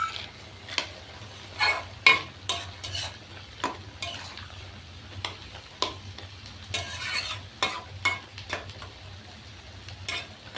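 Lentil dumplings (bori) frying in a pan with salt and turmeric, a steady low sizzle broken by sharp scraping taps of a spatula stirring against the pan, close and clear with no talking.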